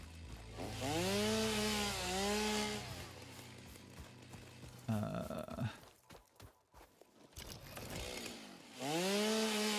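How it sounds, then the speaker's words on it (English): Chainsaw cutting in the video game Satisfactory, with rising and falling revving whines that start, break off into clattering impacts and thuds, then rev up again, loud and close. "chainsaw coming in clutch yet again."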